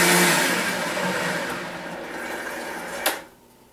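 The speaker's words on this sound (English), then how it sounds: "we're just gonna blend all this up, and this will be our yummy sauce for our stir fry" A blender whirs loudly and steadily through a batch of red sriracha stir-fry sauce, a continuous motor drone that eases slightly before a brief clatter and sudden stop near the end.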